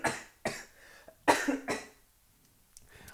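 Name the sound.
man coughing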